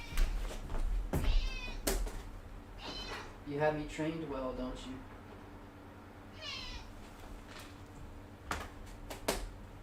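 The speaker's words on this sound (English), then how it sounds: "let me give this cat some greenies. It's not going to shut up." A house cat meows insistently several times, close to the mic, while someone talks over and between the cries, with a few sharp clicks and taps around them.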